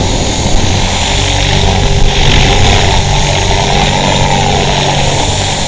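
A 450-size RC helicopter flies up close in gusty, breezy wind, its rotor and motor producing a loud, steady, continuous whine and buzz with no talking.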